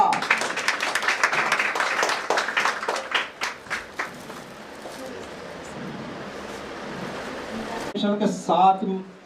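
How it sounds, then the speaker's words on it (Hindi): A congregation in a prayer hall claps in dense, lively applause that gradually thins and fades, before a voice speaks at the end. "जोरदार तालियां"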